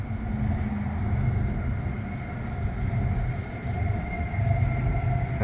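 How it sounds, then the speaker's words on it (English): A steady low rumble of a train rolling by close at hand on a CSX line, with faint metallic hum and wheel noise, continuous for the whole stretch. "I hear a train coming."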